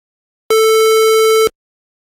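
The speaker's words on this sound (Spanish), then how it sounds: "Luego tenemos la Square Wave, que es la onda cuadrada." Square-wave tone from a synthesizer oscillator, a single buzzy steady note sounding alone for about a second with abrupt start and stop.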